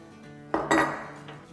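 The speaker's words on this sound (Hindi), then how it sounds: "तो यहाँ हमने एक पैन रखा है जिसको मीडियम लो पे गरम कर रहे हैं।" A metal cooking pan set down on a stove before making chicken soup, a single close clanking thunk with a brief metallic ring, alone in a quiet kitchen.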